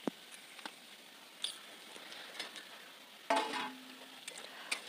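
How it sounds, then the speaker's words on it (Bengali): Fried potatoes are stirred into a spice masala for a fish curry, soft sizzling under repeated scraping and clicking strokes, with a louder burst of stirring partway through. "আলুগুলো দিয়ে একটু ভালো করে কষবো"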